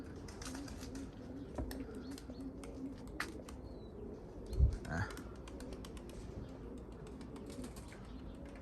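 A pigeon coos softly at a loft during training, a few low faint calls amid quiet outdoor ambience, with a brief louder thump near the middle.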